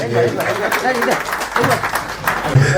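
At a fan and electric dealers association diary inauguration, the audience claps to welcome a lucky-draw winner. The scattered applause sits under an announcer talking and a murmur of chatter.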